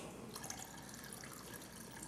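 Water pours steadily into a cooking pot for a stew, a continuous soft splashing and trickling at low level with no talking over it.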